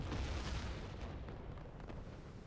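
A torpedo detonates in a World War II submarine video game, producing a deep, sustained rumbling boom that swells loudly and then slowly fades across the whole stretch, with no talking.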